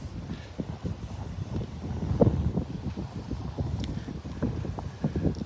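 Wind gusting outdoors at a beach resort in Cayo Santa Maria, a close, steady rumbling buffet on the microphone with uneven surges and lulls throughout, and no voices heard.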